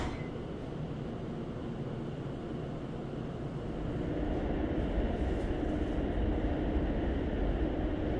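Inside a GTX-A commuter train in motion, a steady low rumble and hiss of the running carriage swells louder partway through and then holds, with no talking.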